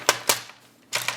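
A plastic Nerf blaster being taken apart gives three sharp, close plastic clicks or snaps, two close together and a third after a short pause.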